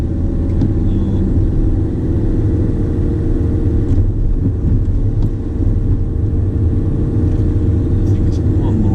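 Car engine pulling up a steep hill in second gear on an Oxford driving test route, a steady low droning rumble heard from inside the cabin, loud and continuous without clear revving changes.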